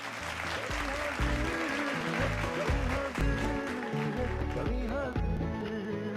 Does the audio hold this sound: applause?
yes